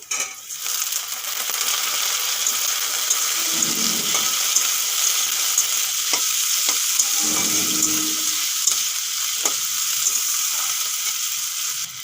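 Cut potato frying in oil in a pan alongside pipul greens, a loud continuous sizzle with occasional spatula scrapes and stirring knocks, close up and with nobody speaking.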